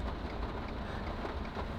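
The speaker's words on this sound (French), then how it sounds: "Selon le radar, on en a pour encore au moins 1 heure de pluie de même." Steady rain falls in Washington D.C. as an even, unbroken hiss that holds at a fairly low level for the whole stretch, with no voices over it.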